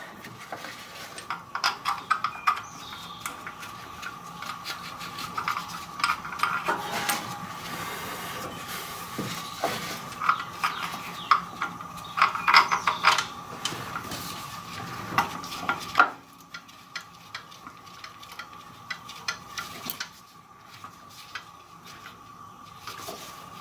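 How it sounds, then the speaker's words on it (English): Loose steering pump bolts being threaded in by hand during a power steering pump replacement, giving scattered light metallic clinks and scrapes, fairly close, with no talk. "I'm just going to get all the bolts loosely started."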